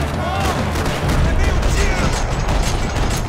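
Rapid bursts of gunfire from the Max Payne 3 video game fill the space, dense, loud and continuous with sharp cracks, while a voice speaks over the shooting.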